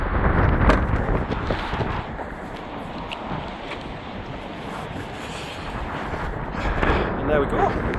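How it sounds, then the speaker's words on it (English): Gusty outdoor wind near the Metro Centre buffets the microphone in a continuous roar, swelling at the start and near the end, with faint speech-like sounds mixed in. "it's a bit windy out"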